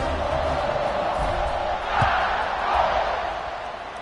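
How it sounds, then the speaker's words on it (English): Stadium crowd noise in the NCAA 26 college football video game, a steady loud roar and murmur filling the whole stretch, swelling slightly near the middle and again later, with no talk over it. "this crowd is buzzing after that last score"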